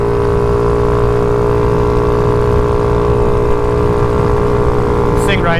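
A scooter fitted with a Reveno clutch rides along under power, its engine droning steadily and loudly with constant harmonic whine and wind, nearly unbroken throughout.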